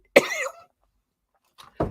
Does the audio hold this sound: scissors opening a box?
no